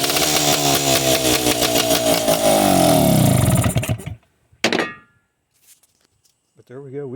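A 1972 Yamaha AT2 street tracker motorcycle engine fires up and runs loudly with a rapid, rattly two-stroke putter for about four seconds, then cuts out, followed by a sharp clank and brief faint sounds.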